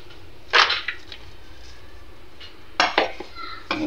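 Onion kebab ingredients, including rice flour, mixed in a bowl, with a few sharp clinks and scrapes of a utensil against the bowl in separate bursts under a quiet background.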